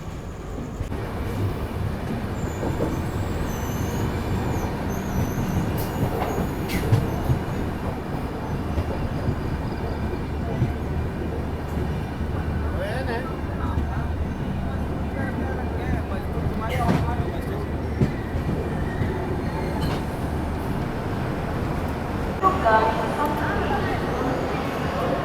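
Palace Queen Humsafar Express hauled by a diesel locomotive, running on the Belagavi–Pune route, a steady rumbling roar of the moving train with faint rail clatter, heard from on board, with occasional voices.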